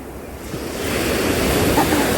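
Waves break on an ocean shore, the surf swelling into a louder, steady rushing wash with breezy hiss and no talk.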